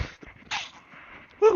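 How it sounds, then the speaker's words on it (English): A sharp, explosive sneeze bursts out near the end, preceded by quiet shuffling and a brief voice exclamation. "Sneeze coming along."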